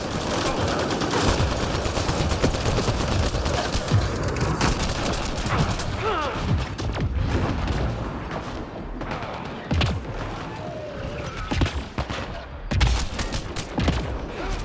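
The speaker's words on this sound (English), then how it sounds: "Heavy fire! Shields got hit." Heavy gunfire in Mass Effect Andromeda: dense, rapid automatic fire with thumping impacts and occasional booms, loud and continuous, with intermittent voices mixed into the barrage.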